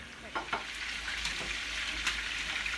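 Chicken sizzles and crackles in a hot pan, a constant frying hiss with a few soft clinks and stirring sounds, no talking.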